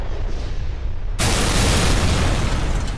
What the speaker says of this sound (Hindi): बंकरों को तबाह करने के लिए बम बरसाए।